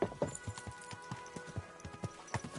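A horse in Kingdom Come: Deliverance II trots with steady, rhythmic hoof clip-clops on a hard path, fairly close and distinct over light background ambience.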